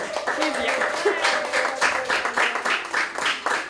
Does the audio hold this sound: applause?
yes